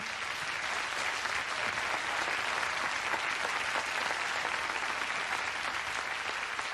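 An audience applauds Régis Dupré's orchestra at a televised tribute show, a steady dense wash of clapping from many hands that holds evenly throughout, fairly distant and without voices.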